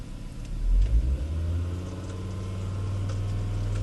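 Volvo car engine running, rising from a brief rumbling rev into a steady low idle, close and fairly loud with a constant droning hum.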